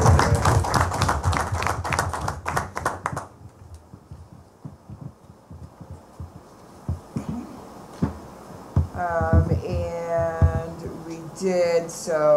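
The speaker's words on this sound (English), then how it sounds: "So a big round of applause for South Jefferson." Meeting attendees applaud an award to South Jefferson with a short burst of dense clapping that stops abruptly, followed by quiet room noise, scattered taps and then a voice talking.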